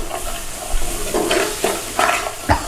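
Base gravy sizzles steadily in a hot frying pan for a British Indian Restaurant North Indian Special curry, with a spoon scraping and stirring through it in repeated, close strokes.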